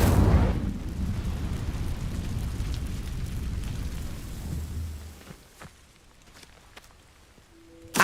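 A fiery Incendio spell blast in Hogwarts Legacy erupts in a loud, roaring burst that rumbles for about five seconds, then fades to quieter crackles and small pops.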